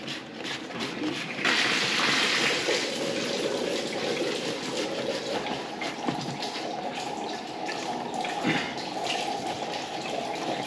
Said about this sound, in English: So that was the urinal flushing that I've just put the trap back on